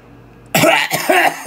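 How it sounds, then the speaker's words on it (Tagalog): A single person coughs up close, a harsh burst followed by a couple of quick follow-up coughs with a throat-clearing quality, loud over faint room hum during a live solo stream. "Sabay talaga sa ubo ko."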